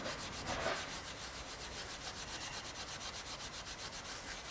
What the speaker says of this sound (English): I'm just going to use a light, very light grade of wire wool, just to rub it on.